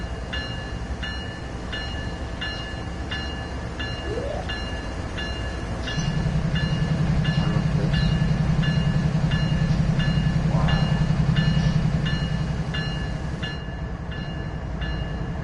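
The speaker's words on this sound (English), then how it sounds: "Look at my train." A toy or model train running in a dim room, a steady low mechanical hum that swells in the middle and then eases, with faint clicks and a high electronic tone over it, heard alone without talk.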